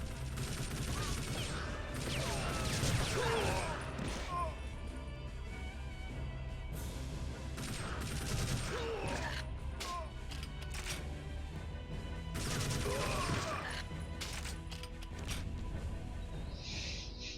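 Assault rifle fire in the video game TimeSplitters Future Perfect comes in repeated bursts of rapid shots over game music and effects, loud throughout with brief lulls between volleys.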